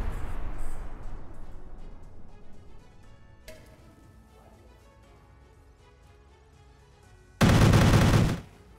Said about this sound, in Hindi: प्रेट्रेन चैनल पावर प्लांट को विस्फोट से ध्वस्त किया गया है।